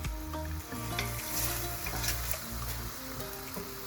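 Rice and half an onion are stirred and fried together in a pan, giving a continuous close sizzle with rhythmic scraping and shuffling of a spoon through the grains.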